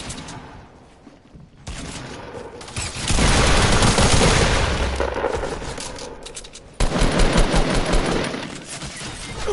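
Sustained automatic gunfire in a video game, dense bursts of shooting that swell loud in the middle and return as a rapid rattling stream near the end, close and intense.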